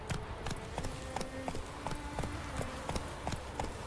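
Roach, a horse in The Witcher 3, gallops with steady, rapid clip-clop hoofbeats repeating throughout, fairly close and loud over a busy game soundscape.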